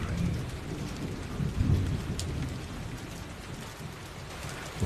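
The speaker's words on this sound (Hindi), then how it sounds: "बाहर की कड़कती बिजली" Steady rain pours down in a thunderstorm while low thunder rumbles swell and fade beneath the hiss of falling drops, with no voices present.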